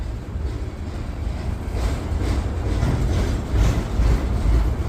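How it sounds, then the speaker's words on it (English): A Norfolk Southern intermodal freight train with two or three locomotives rolls past close by, giving a loud, steady low rumble and rushing wheel noise that swells slightly as it goes. "here comes that intermodal Norfolk Southern Intermodal coming through with 2 locomotives on it"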